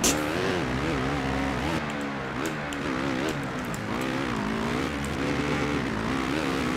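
A motocross bike engine in the video game MXGP revs steadily and loudly throughout, pitch rising and falling with throttle, with a few sharp clicks and bursts over the continuous drone.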